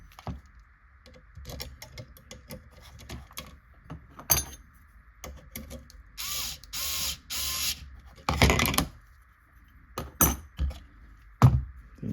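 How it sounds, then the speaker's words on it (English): An M3 screw and nut are tightened on a kit assembly, giving close, irregular small metallic clicks, ratcheting and tool-handling taps at low level, with quiet gaps between bursts. "we'll lock all that down with an M3 screw nut"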